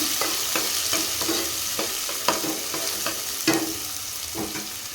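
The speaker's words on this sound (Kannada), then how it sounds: "ಆ ಈರುಳ್ಳಿನ ಹಾಕ್ತೀನಿ. ಇದು ಚೆನ್ನಾಗಿ ಫ್ರೈ ಆಗಲಿ." Chopped onion, one large onion's worth, frying in a pan for kaju paneer masala, a steady hiss of sizzling broken by repeated scraping clicks of the spoon as it is stirred, close and alone without voices.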